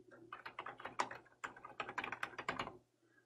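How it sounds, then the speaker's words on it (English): Fingers type quickly on a computer keyboard, producing a rapid, close stream of light plastic key clicks in two bursts separated by a brief pause, with no talking. "so I can type in a"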